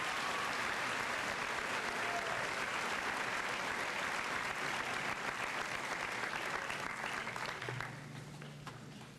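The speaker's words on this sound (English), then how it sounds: "let's give them one more round of applause" Sustained applause from a large audience at a high school senior assembly, dense and loud throughout before tapering off toward the end.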